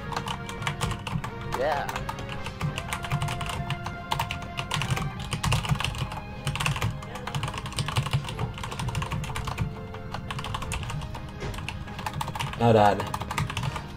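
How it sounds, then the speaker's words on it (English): Rapid clatter of a computer keyboard sounds in uneven bursts throughout, fairly close, beneath game music and occasional voices. "I'm typing this out."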